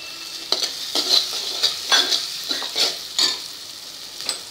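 Curry leaves hit hot oil with cumin, chili and ginger for a batata vada filling, giving off a series of bright, crackling sizzle bursts in an uneven rhythm, close and fairly loud.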